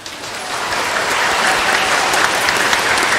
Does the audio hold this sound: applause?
yes